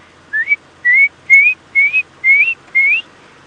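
Someone whistles an imitation of the red-crested korhaan call as six short rising whistles in an even rhythm, loud and close, in quiet surroundings.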